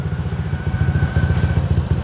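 Motorized seat of a Honda PCX 150 scooter moving after a button press, a steady mechanical whir with a thin sustained tone and rhythmic low clatter running close and continuous throughout.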